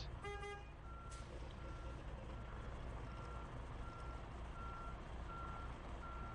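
Steady, evenly spaced reversing beeps from a large truck backing up beside a trailer, repeating about every three-quarters of a second over a constant diesel engine rumble.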